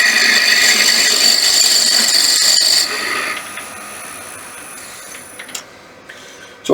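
A wood lathe turning a wooden whistle, a loud, steady high-pitched whine and rasp of the tool cutting the spinning wood, easing to a quieter hum and fading partway through.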